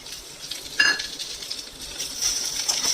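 Steady sizzle of finely chopped prawns frying in a pan, with a brief metallic clink of a utensil against cookware partway through.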